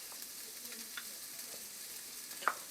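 Chopped bell pepper frying in a pan, a faint soft sizzle with a couple of light clicks, close and quiet.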